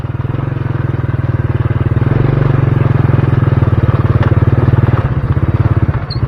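A motorcycle engine labors loud and close with a steady rough drone, sputtering and clattering toward the end while pushing through deep, rough road.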